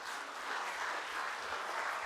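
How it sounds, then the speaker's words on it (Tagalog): A church congregation gives a brief round of soft clapping, heard at a moderate distance and fairly faint throughout. "Pumalakpak yung may natututunan."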